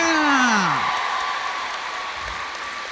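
An audience at a science exhibition's opening ceremony applauds in a steady, sustained wash of clapping that fades slightly, with a voice speaking over the start.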